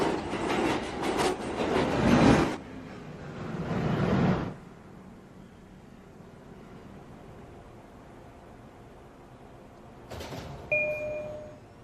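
A downtown local 1 train on the New York City subway rumbles loudly into Chambers Street station for a few seconds. The noise then drops to a low platform hum, and a brief two-tone chime follows near the end.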